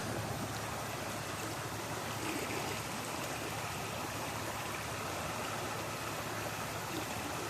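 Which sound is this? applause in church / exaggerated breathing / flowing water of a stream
flowing water of a stream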